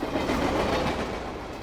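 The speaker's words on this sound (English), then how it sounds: "Despite the signals telling it to slow down, the train was speeding up." A freight train hurtles along the rails with failed brakes, sending out a loud, dense and steady rolling roar and rapid clickety-clack of wheels close by, with no talk over it.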